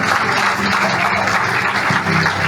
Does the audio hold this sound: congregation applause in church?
yes